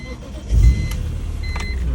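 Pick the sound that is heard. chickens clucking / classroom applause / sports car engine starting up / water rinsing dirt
sports car engine starting up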